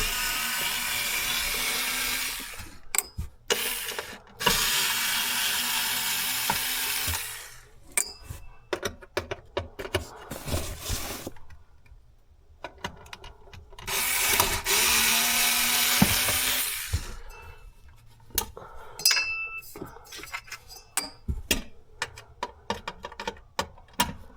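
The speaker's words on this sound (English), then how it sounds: "Once we remove these 4 screws and put them in the magnetic parts tray," A power tool spins out screws from the fuel pump access cover of a 2006 Subaru Forester 2.5X, with several bursts of whirring drill sound separated by quiet gaps and small clicks and ticks.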